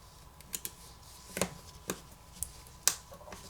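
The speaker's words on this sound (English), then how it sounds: "Now go ahead and put your plastic covers back in place." Plastic internal covers being pressed back into a Motorola Moto G7 Play phone during repair, giving a handful of quiet, sharp snaps and clicks spaced irregularly over a few seconds.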